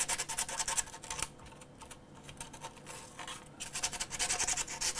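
A 3D-printed part is sanded by hand, with close, rhythmic scratchy rubbing strokes in bursts, quieter in the middle stretch.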